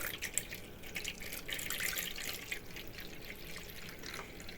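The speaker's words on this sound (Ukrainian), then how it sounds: "Далі сюди додаємо звичайну воду." Plain water is poured into rye bread dough, a faint, continuous trickle and splash close by with small dripping accents, against a quiet background.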